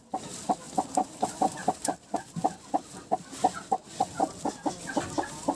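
A broody hen sitting on fifteen turkey eggs gives a steady run of low, regular clucks, close by and moderately loud, with no talk over them.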